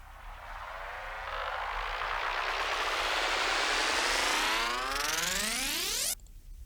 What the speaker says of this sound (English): A little bit of a volume increase towards the end would be nice so that we have it a bit more of a rising sound.